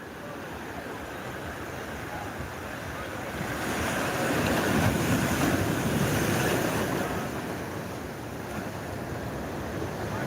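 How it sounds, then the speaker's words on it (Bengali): Rough sea waves rolling onto Digha beach at night as the tide rises, a steady roar of surf with wind noise that swells louder in the middle and then eases, no talking. "এই মুহূর্তে অনেকটা কিন্তু জল কিন্তু অনেকটা বাড়ছে আর জোয়ার আসছে এই মুহূর্তে"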